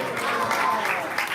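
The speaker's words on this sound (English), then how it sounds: "let's give a round of applause for Sikhi Mahiti for wonderful class" Audience applause after a devotional class at a Balaram Jayanti temple gathering, a dense, steady wash of clapping filling the brief moment, fairly close and even in level, with voices faintly mixed in.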